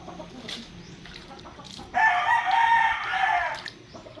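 A fighting rooster crows once loudly and close by for about two seconds, with quieter clucking and faint farmyard noise before and after.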